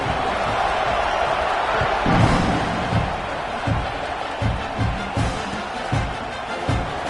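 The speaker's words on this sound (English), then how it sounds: "this crowd now ready to get behind them" A football stadium crowd roars steadily and fills the space, with occasional louder surges and dull thumps and a commentator talking over it.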